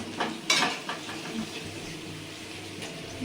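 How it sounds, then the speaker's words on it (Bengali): Onions frying in oil tempered with whole spices for a chicken curry, a soft steady sizzle with a few clinks of a utensil against the pan, fairly close and moderately loud. "ওই যে ফোড়ন দিয়ে পেঁয়াজটা দিলাম, পেঁয়াজটা ভাজি"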